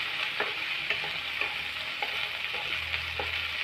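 Ivy gourd (kovakkai) sautéing in a pan gives a continuous loud sizzle, broken by several light scrapes and taps of a spatula stirring the pieces.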